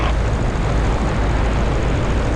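Pietenpol light airplane gliding on approach, a steady broadband rush of wind and low engine drone heard from inside the open cockpit, even and unbroken.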